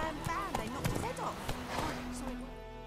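Geralt's horse Roach trots in The Witcher 3, hooves clip-clopping in a quick steady rhythm under a voice and background music.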